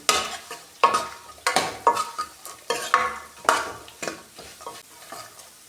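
Dry fruits roasting and being stirred in a pan, a spoon scraping in repeated strokes about every half second with a light sizzle, close and clear with no voices.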